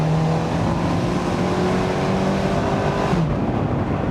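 Abarth 124 Spider with a 1.4-liter turbo engine drones loudly and steadily up close, its pitch easing slightly before the sound cuts off abruptly near the end.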